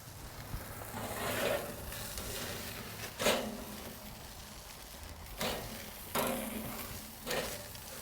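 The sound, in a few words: Wagyu ribeye steaks searing on SNS Master Kettle grill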